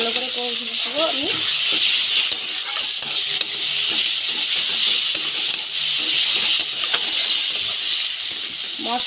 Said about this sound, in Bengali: এবার মশলাটাকে ভালো করে কষে দেবো আমি।